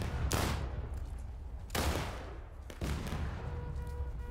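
Musket volleys in the Civil War video game War of Rights, three loud crashing company volleys spaced over a few seconds, each trailing into a rumbling echo under steady battle noise.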